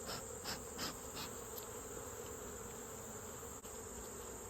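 Honey bees buzzing around open hive frames during late-summer colony equalizing: faint, steady insect hum with a high persistent drone and a few brief closer passes, no voices.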